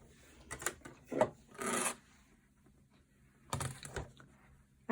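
Rotary cutter slicing through sewn-together fabric strips on a cutting mat, cutting them into small segments for a scrappy 16-patch quilt block: several short, quiet rasping strokes with pauses between them.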